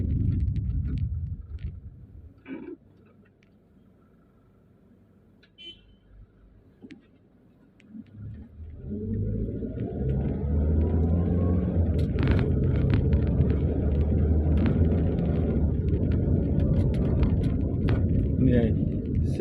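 Light traffic on a Denpasar street in Bali ahead of Nyepi: a quiet stretch, then a steady rumble of passing cars and motorbikes builds and carries on close by, with talk running through it.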